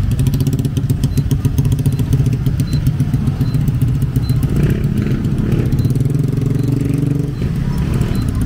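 A small motorbike carrying four people runs along a village road in the Philippines, its engine buzzing loud and close with a steady rattling drone that swells slightly as it passes, with no talk.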